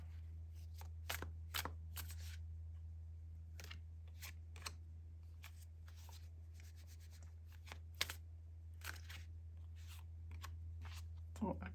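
A deck of cards is handled and shuffled, with scattered sharp riffles and flicks over a steady low hum; a voice talks quietly at times.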